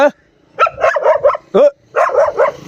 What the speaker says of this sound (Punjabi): ਕੁੱਤਾ ਆਪਾਂ ਨੂੰ ਵੇਖ ਕੇ ਭੌਂਕ ਰਿਹਾ ਹੈ